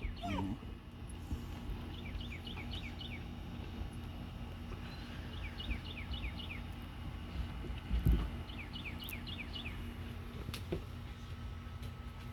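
A puppy yips and whimpers in short repeated bursts of high cries, about three clusters spaced a few seconds apart, over steady outdoor background noise with a brief thump.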